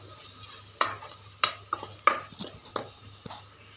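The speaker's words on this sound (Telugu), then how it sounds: "ఇప్పుడు మసాలాల్లో మొత్తము ఇలా మనము కలుపుకోవాలండి" A spoon stirs spice masala for egg curry in a pan, giving a run of close, sharp scrapes and clinks over a soft frying sizzle.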